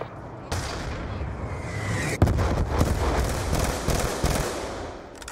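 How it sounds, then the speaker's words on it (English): Hellstorm missile strike in Call of Duty Black Ops 2 multiplayer: a dense barrage of explosions and crackling blasts, starting abruptly with a sharp loud burst near the middle, then continuing as a rolling, sustained rumble that fades toward the end. "Hellstorm missile inbound."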